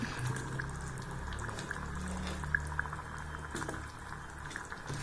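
Pumpkin pieces going into simmering Tamil yaana pulei kulambu: a soft bubbling and gurgling boil with small splashes and drips, fairly faint, and no talk.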